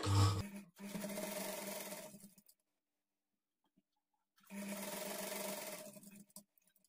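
A sewing machine stitches a straight line on a child's lehanga blouse in two steady, close, whirring runs separated by a few seconds of silence, opening with a brief thump.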